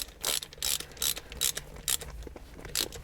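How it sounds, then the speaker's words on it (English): A ratchet snugging up short shifter bolts on a Porsche 944, a close, loud run of rhythmic clicking bursts repeated about every third of a second with brief pauses between strokes. "now I can simply take my ratchet and wrench and snug them up"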